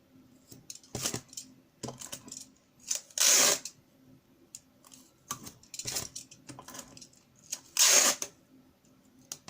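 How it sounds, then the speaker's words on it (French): Clear tape being torn and pressed onto a sheet of baking paper: sharp, raspy rips in irregular bursts with softer crinkles and taps between them, close up. "Je remplis mon papier sulfu de scotch"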